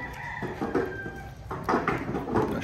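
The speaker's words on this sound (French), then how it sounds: "Le chant du coq." A rooster crows near the coast of Baja California at Los Barriles, Mexico, with a strained, drawn-out call and repeated clucking bursts, fairly close and loud with no talking.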